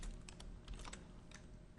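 Quick run of keystrokes on a computer keyboard, several soft close clicks in a short burst, faint and alone.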